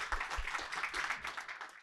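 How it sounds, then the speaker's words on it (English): An audience at a community breakfast event applauds as two speakers come on stage, a modest, fairly quiet round of clapping with distinct hand claps audible throughout. "let's get Maiju and Lauri on stage so we can give a big applause"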